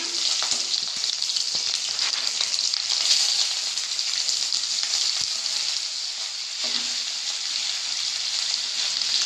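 Chopped onions frying in hot oil for a fish-head muri ghonto, a steady dense sizzle that holds close and loud throughout, with faint stirring clicks and no talk.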